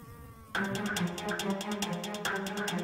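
Honeybees and paper wasps buzz at a hive, a dense, close, continuous drone with rapid pulsing wingbeats that starts abruptly and fills the clip, loud against the faint background.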